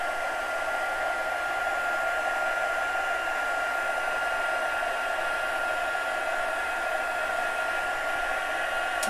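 A heat tool blows a steady, loud whooshing hiss with a faint whine as it melts embossing powder on a Halloween paper card, running unbroken with no voices.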